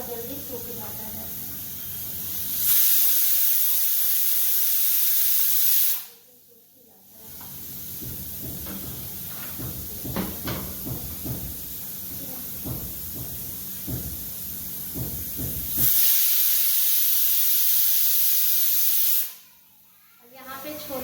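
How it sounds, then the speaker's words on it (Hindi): Kabuli chana (chickpeas) boiling in a home kitchen, giving off loud, steady steam hissing in two long bursts of about three seconds each, with quieter clattering and kitchen activity in between. "अब यहाँ पे छोले उबल रहे हैं।"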